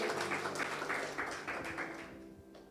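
Church congregation clapping in a burst of applause that fades out over a few seconds, moderately distant and fairly soft.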